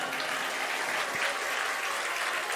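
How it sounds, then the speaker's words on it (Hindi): Audience applause at a Hindu devotional talk on Shiva worship, a steady, dense wash of clapping that holds evenly throughout without any voices. "ताली ज़्यादा तो नहीं बजा दिया आपने"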